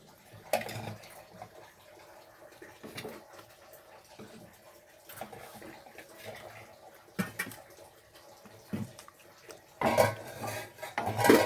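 Food stirred in a pot, with intermittent scraping and clinking of a utensil against metal in irregular bursts, louder toward the end, with faint voices in the background.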